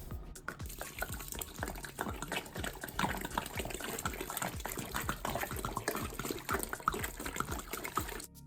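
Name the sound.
gallon of cold water poured into brewing pot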